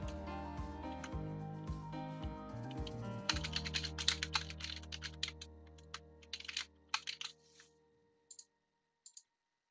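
Keystrokes clicking on a computer keyboard, quiet and close, in quick irregular bursts that thin into a few isolated taps toward the end, with steady tonal background music underneath and no talking.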